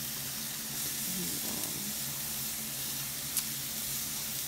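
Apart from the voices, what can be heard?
vegetables sizzling in a pan, sweating down for an omelet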